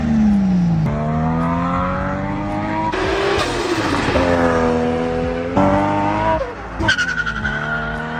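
A Nissan Skyline RB engine fitted with an HPS exhaust manifold revs hard through repeated rising pulls, each climb cut short and restarted, loud and close with a raspy, harmonic-rich tone and a sharp blip near the end.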